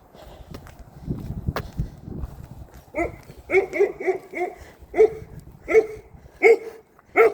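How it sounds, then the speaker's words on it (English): A dog barks outdoors near houses, giving a run of about eight loud, close barks at irregular intervals after a few seconds of quieter shuffling. "My doggy was scared of this doggy."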